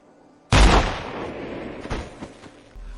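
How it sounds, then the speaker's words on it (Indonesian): A single loud, close gunshot in a film scene cracks out sharply after a quiet moment, followed by a decaying rumble and a few softer thuds. "tiba-tiba ia ditembak oleh Draper dari belakang"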